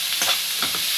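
Onions frying in hot oil for a curry, a dense, loud, continuous sizzle with a few soft stirring scrapes through it.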